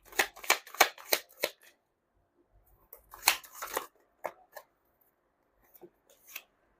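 Rapid crisp riffling of tarot cards, a quick burst of flicks followed by a second shorter burst and a few scattered taps, close and alone.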